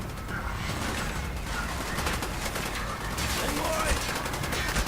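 Sustained automatic gunfire sprays in Call of Duty: Black Ops, a dense, continuous rattle of shots that holds steady for several seconds at moderate volume.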